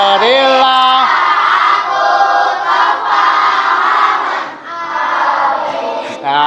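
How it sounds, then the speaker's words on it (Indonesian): A class of students in a classroom shouts and cheers together for a classmate. It is a loud, continuous chorus of voices that dips briefly and then surges again. "Tepuk tangan buat Anon."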